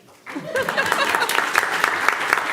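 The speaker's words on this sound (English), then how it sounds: "So I want to give them a big round of applause." Audience clapping for a school dance team at a board meeting, starting abruptly and building into brisk, dense applause with some individual sharp claps close by, lasting a couple of seconds, with voices murmuring underneath.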